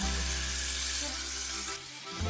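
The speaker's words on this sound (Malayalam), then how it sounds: "ഓയിൽ ഒഴിച്ച് ചെറുതായി മുറിച്ചിട്ടുള്ള ചിക്കന് ഫ്രൈ ചെയ്തെടുക്കാം" Small cut chicken pieces fry in oil in a pan, making a steady, close broadband sizzle that stays loud for most of the moment, then dips briefly near the end before picking up again.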